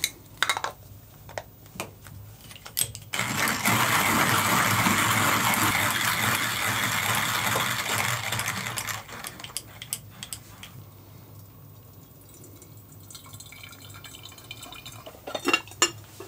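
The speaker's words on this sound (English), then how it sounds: "We use the Pietro, which we'll go ahead and grind this up now" A Pietro hand coffee grinder crushing coffee beans, a dense gritty grinding rasp that runs for several seconds, eases off and trails into quieter scraping, with clicks and knocks of handling before and after.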